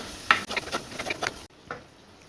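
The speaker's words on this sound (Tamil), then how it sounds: "ஸ்டவ் லோ டு மீடியம் ஃப்ளேமில் வச்சு நல்லா வதக்கி விட்டுப்போம்" Onion, tomato and garlic sautéing in oil in a clay pot over low to medium flame: a few faint, close scrapes and taps of stirring over a soft sizzle.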